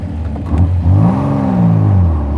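A 1938 BMW 328 Roadster's engine pulling up a hill, revving up with a rising then falling drone as it accelerates, loud and close from inside the car.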